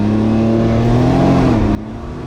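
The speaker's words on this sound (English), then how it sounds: "So we are taking one last ride on this 2019 Can-Am Ryker 900" A 2019 Can-Am Ryker 900 three-wheeler being ridden, its engine droning loud and close with a steady hum and a slight pitch change, then dropping abruptly in level near the end.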